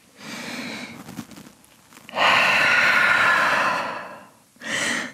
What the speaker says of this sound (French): Grande respiration au chien tête en bas.